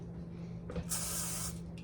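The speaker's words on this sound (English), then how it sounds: "Get your non-stick spray." A short non-stick cooking spray hisses steadily for about half a second after a brief rattle, close by, over a low background hum.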